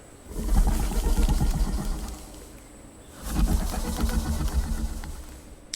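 Video game bird coos and chirps come in two swells over a steady low rumble, separated by a brief lull.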